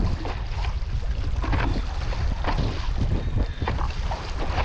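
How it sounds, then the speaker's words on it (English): Wind and rain rush steadily around a small boat out on choppy water during a long-distance paddling race, a loud continuous roar with buffeting gusts on the microphone and no voices. "It's raining, it's windy"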